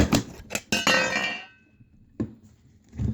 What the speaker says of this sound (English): If I take off the top cover here, you'll see.